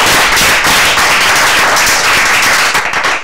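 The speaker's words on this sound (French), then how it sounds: "Merci d'applaudir très fort pour M." A television studio audience applauds loudly, a dense, close burst of clapping that holds steady throughout.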